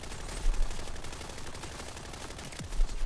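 A Vladof gun firing in the video game Borderlands 4, a steady stream of rapid automatic shots with a few heavier booming thumps, loud and continuous over a busy background.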